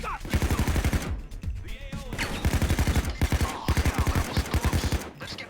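Rapid bursts of gunfire in the video game Payday 2 come in quick repeated volleys with short gaps, fairly faint, with voices talking in places.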